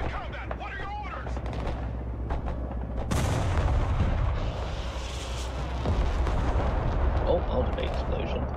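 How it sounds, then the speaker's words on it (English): Heavy artillery rounds fire in the Broken Arrow war game, dense booming blasts and rumbling gunfire layered over a battlefield din. The impacts are loud and continuous, and radio-style voices talk throughout. "Artillery ready to fire, sir."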